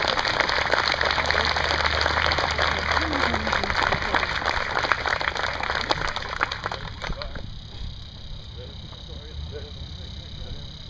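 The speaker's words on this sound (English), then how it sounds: "one more round of applause for the awardees" An audience at a military family day ceremony claps for soldiers receiving awards, a dense, steady patter of many hands that carries on for several seconds and then drops to a thinner, quieter spatter.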